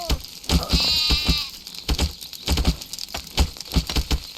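Sheep in the video game Craft the World bleat several times over a busy backdrop of rhythmic tapping and pattering game effects, the bleats near and fairly loud.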